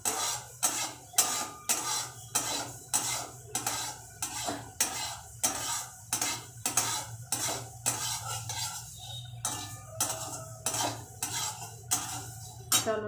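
Mung dal being lightly dry-fried in a pan, a spatula scraping and clinking against the metal in a steady rhythm of about two strokes per second, close and fairly quiet, with a low hum underneath.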